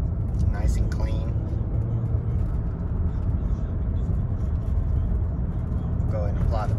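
A 2010 Mercedes-Benz E350 on a test drive gives a smooth, low, steady cabin rumble of engine and road noise, with faint murmurs of a voice briefly surfacing over it.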